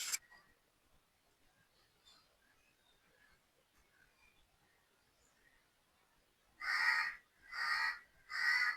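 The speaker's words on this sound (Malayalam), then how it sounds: "എൻ്റെ കാക്ക വീണ്ടും വന്നു." A crow caws three times in close succession, loud and near, after a quiet stretch with faint background sounds around a home kitchen.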